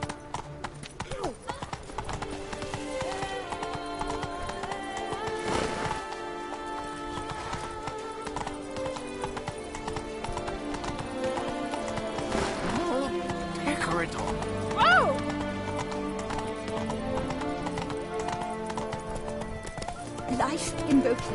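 Roach, a horse in The Witcher 3: Blood and Wine, gallops with rhythmic clip-clopping hoofbeats and snorts amid game music and ambient sounds, while voices speak over it.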